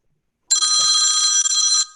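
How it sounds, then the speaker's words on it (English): A telephone rings during a board meeting, one sustained bright electronic trill lasting over a second, loud and close. "I thought it was my phone."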